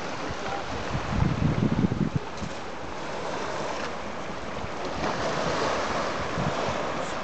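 Waves break and wash steadily onto Barreirinha beach in Funchal, Madeira, a continuous roaring surf with heavier crashes early on, overlaid by gusty wind buffeting the microphone.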